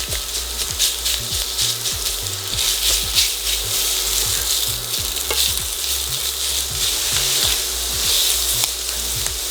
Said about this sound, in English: add your sausage to pan, and what we're going to do is we're going to brown it, cook it fully.